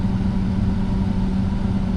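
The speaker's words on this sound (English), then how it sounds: "Got us a water truck now." A water truck's engine idles nearby in a steady, loud low rumble that runs unbroken and alone, with no talking.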